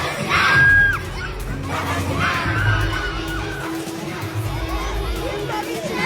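A large crowd of children shouting and screaming at a child influencer's party, a loud continuous din of overlapping voices with some high shrieks rising above the chatter.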